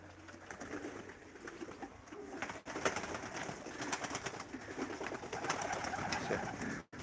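Young pigeons coo softly in a loft, with repeated low throaty calls over a faint background of rustling and shuffling.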